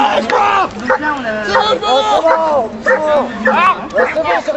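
A police dog barks and yelps repeatedly in rapid bursts during a municipal police demonstration, loud and close, with people talking and crowd noise underneath.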